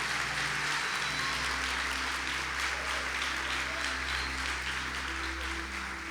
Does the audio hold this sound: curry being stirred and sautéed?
no